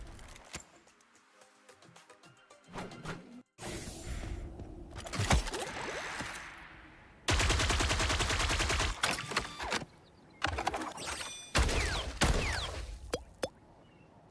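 Marvel Rivals game combat brings bursts of rapid gunfire alternating with mechanical reload clacks and clicks, loud sustained volleys broken by short gaps and scattered impacts.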